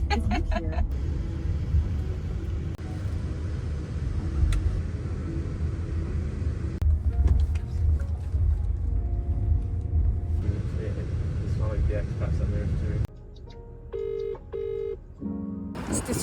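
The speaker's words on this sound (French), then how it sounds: "On se sentait vraiment en sécurité dans la voiture et aucun problème, très fluide, parfait." A steady low rumble fills the interior of a Jaguar car as it drives, with a brief electronic beep sequence near the end.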